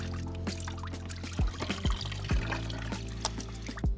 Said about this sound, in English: it made the coolant come out a lot faster